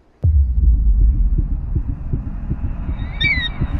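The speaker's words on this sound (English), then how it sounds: "Feed your corpse to Icarus, you stupid bird" A bird's short, high squawk in the video game Assassin's Creed Odyssey rings out near the end, above a steady low, rhythmic throbbing.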